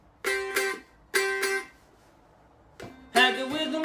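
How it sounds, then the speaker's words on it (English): A cigar box guitar rings out in a few short strummed chords separated by pauses, ending with a fuller, sustained strum. "This is the guitar I made with Ben Rouse for the show."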